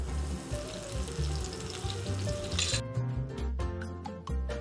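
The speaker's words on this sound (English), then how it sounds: "So we're gonna throw all these mushrooms in." Mushrooms hit a hot pan for a vegan pâté, giving a steady close sizzle and frying crackle with low clattering underneath, busier toward the end.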